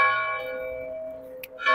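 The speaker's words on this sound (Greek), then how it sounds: "Για ποιον χτυπάει η καμπάνα?" A church bell rings in Arachova on Mount Parnassus, a single sustained toll with a long humming decay, fairly close, followed by a brief fresh strike near the end.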